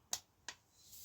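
Two sharp torque wrench clicks, close and crisp, while crank bolts on a bicycle are tightened in turn; no talking.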